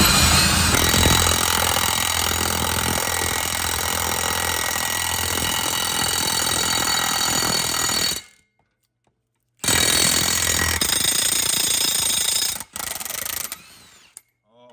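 A power tool runs in loud, sustained mechanical bursts as it tightens conical lug nuts on a Chevy P30 chassis ramp truck. Two brief silent pauses separate the runs, and it ends in short choppy spurts.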